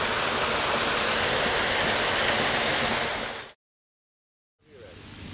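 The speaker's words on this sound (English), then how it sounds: "Green dyed water is added to the storm sewer until we get a surcharging effect like you see here at this catch basin." Green dyed water pouring from hydrant hoses into a storm sewer catch basin makes a steady, loud rushing roar like a waterfall, cutting to silence for about a second before the flow sound resumes, with no voices.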